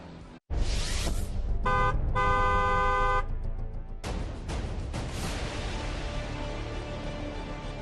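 A vehicle horn blares in long, steady toots over rumbling engine and traffic noise, loud and close, before the roar of passing vehicles continues.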